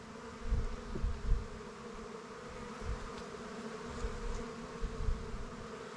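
A dense, steady drone of many bees buzzing close by in an open nucleus hive, with soft bumps and swells in loudness throughout.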